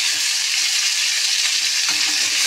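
Small puti fish fry in a pan with onion, garlic and spices, producing a loud, constant close-up sizzling hiss with a faint stirring scrape.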